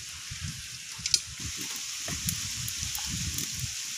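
Cold-pressed oil heating and sizzling in a pan while mango pickle is being made: a steady, close crackling fizz with scattered louder pops and light stirring scrapes.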